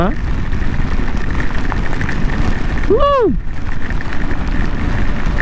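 Heavy rain roars steadily around a KTM Adventure motorcycle riding through an extreme downpour, a dense constant wash of noise, with a brief rising-and-falling tonal sweep from a passing vehicle midway.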